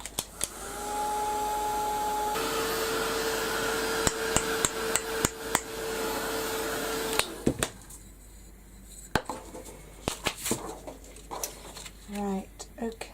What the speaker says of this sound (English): So I'm going to give this a quick blast and get this dried.